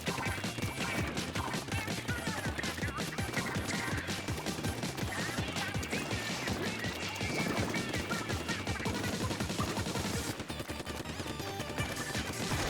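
Missile fire in the Splatoon 2 video game during a Splatfest match, heard as dense rapid bursts and crashes layered over loud continuous game music throughout.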